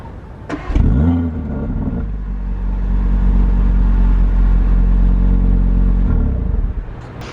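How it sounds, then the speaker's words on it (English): A 2022 Audi RS3 starts up in RS Performance mode, a sharp crank and loud rev flare followed by a deep, steady close-up exhaust idle with burbles, settling until a final blip near the end. "the exhaust note when you start up, there's actually a lot more burbles on the startup in RS Performance"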